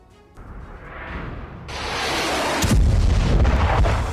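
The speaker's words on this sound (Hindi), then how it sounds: "जहां ईरान ने एक के बाद एक कई मिसाइलों से हमला कर कोहराम मचा दिया।" Iranian ballistic missiles strike Petah Tikva near Tel Aviv: a rising roar swells into a loud, sustained rumbling blast with deep booming impacts, heard from a distance.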